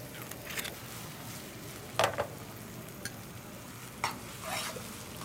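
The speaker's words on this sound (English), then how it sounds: "And we'll let that simmer for a few minutes" Sauce with a splash of white wine and kosher sea salt bubbles in a pan, a soft, quiet sizzle broken by a few sharp clinks and stirring scrapes of a utensil.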